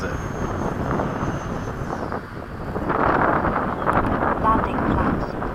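An FMS 80mm Hawk RC jet flies at an airfield with a whooshing, whining ducted-fan rush that swells toward the end. Wind buffets the microphone throughout.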